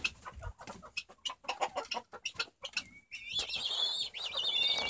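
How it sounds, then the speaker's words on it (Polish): Italian-breed rooster crowing among a flock of hens in a coop, with scattered soft clucks and chirps first, then a loud, wavering crow rising up close. "Tutaj kogut rasy włoska."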